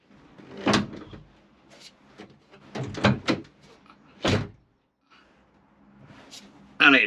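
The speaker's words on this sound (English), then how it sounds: "We'll close the back door." The rear door of a VW T5 campervan is shut with a few solid thunks and a final loud slam at the end, all close by.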